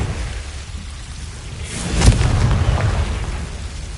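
A Confringo blasting spell goes off in the Hogwarts Legacy video game: a sudden loud burst near the middle, followed by a rolling, rumbling roar that slowly fades.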